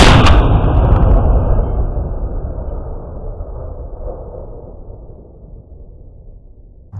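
A single 6.5 Creedmoor rifle shot fires a Hornady 139 grain Sledgehammer bullet during an outdoor hog hunt. One sharp, loud crack at the start trails into a long rolling echo that fades over several seconds.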